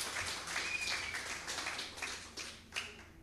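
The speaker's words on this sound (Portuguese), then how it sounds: "Uma salva de palmas para ti" A church congregation claps in applause during a Portuguese-language service, a fairly soft, steady patter of many hands with scattered sharper claps, heard from a short distance.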